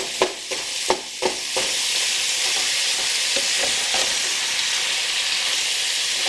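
Onions fry in a hot pan, with a few sharp scraping knocks of a utensil breaking them up at the start, then settling into a loud, even sizzle and hiss, close and without speech.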